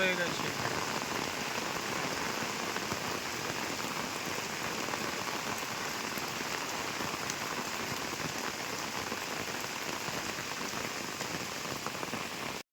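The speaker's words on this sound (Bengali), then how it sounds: "এখন পুরো মেঘ ভাঙা বৃষ্টি শুরু" A torrential downpour of rain roars steadily and loudly without a break, a dense hiss of drops pounding surfaces nearby.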